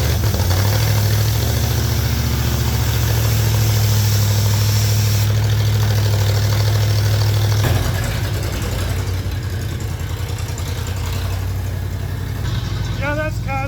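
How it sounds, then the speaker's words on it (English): A V8 302 engine driving an air compressor, choke on, runs with a loud, steady rumble and a strong low hum throughout, its tone shifting partway through as the load changes. "302 air compressor, choke is on."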